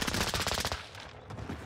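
Rapid fire from the Lapa SMG in Call of Duty Warzone rattles loudly for most of a second as a dense, fast stream of shots, then fades into game ambience and faint distant noise.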